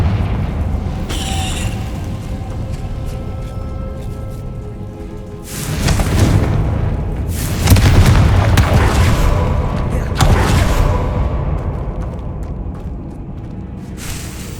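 A Confringo spell blast in Hogwarts Legacy, a fiery magic attack that lands as heavy booming explosions partway through, rumbling loudly over a steady rain-like hiss, with a voice speaking amid the action.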